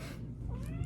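A pet cat meows and caterwauls close by at a home indoors, one drawn-out, wavering complaint filling the whole moment with no talk over it.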